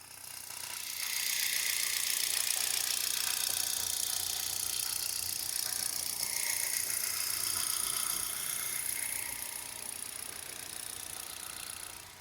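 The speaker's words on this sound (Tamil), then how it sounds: "இப்போ இந்த வண்டியோட இன்ஜின் சவுண்டு எப்போ இருக்குன்றத மைக்கை நான் பக்கத்தில் வச்சு காட்டுறேன்" A 2015 Hyundai Xcent petrol engine idles steadily up close, a constant whirring hum with a faint rattle, running on unchanged for several seconds.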